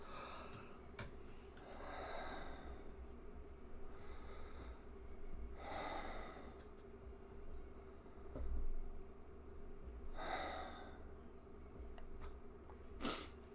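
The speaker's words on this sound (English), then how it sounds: "take 3 big, deep, heavy breaths" Three big, deep, heavy breaths drawn during a guided meditation, each a soft airy rush spaced a few seconds apart over low room hum, close and quiet with no talking.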